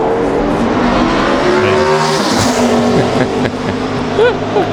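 A NASCAR number 87 Toyota race car runs a qualifying lap at Texas Motor Speedway, its engine a loud, steady high-revving drone that sweeps in pitch as it passes, with a speech-like broadcast voice faint beneath.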